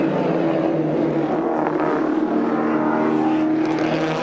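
A race car in the 1991 Bathurst 1000, its engine struggling and running rough, roars loudly and continuously at close range for the whole stretch with no talk over it.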